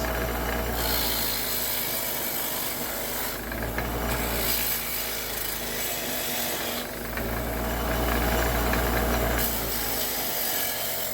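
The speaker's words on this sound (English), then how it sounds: "so I use the wire wheel. Right here. And I try to clean up these edges." A wire wheel scours the rough edges of a cherry burl wood blank, stripping loose material before green epoxy is poured for a serving board; a loud, continuous abrasive rasping that surges and eases in long passes, with no talking.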